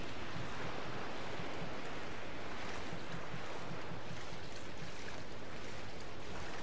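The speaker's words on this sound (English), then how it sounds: "does diving underwater avoid the waves?" Ocean waves in the Shadow of the Colossus video game, a steady, loud broadband surf and rushing water roar with wind-like noise, continuous throughout with no voices.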